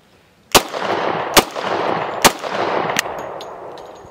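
Four sharp, loud gunshot cracks from a Glock 30 pistol that had been frozen for 24 hours, spaced about a second apart, each followed by a long ringing outdoor echo that decays slowly.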